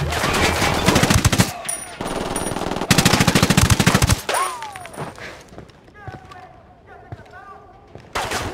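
Heavy automatic gunfire rattles in long, loud bursts during a firefight in Ghost Recon Wildlands, broken by pauses, a whooshing sweep and scattered distant shots, with voices talking over parts of it.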